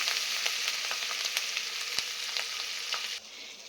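Turmeric and ginger fry in a pan for mung paneer pulao, giving a steady close sizzle with small crackles and clicks. It drops quieter near the end, and no one speaks.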